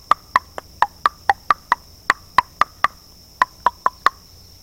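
Sharp wooden knocks of a mallet repeat about four times a second, evenly spaced with one brief pause, loud and close against a steady high hum.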